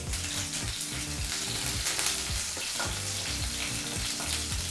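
Garlic and curry leaves crackle and sizzle loudly in hot oil as a tempering, a dense, continuous close-up frying noise with a few sharper pops and no voices.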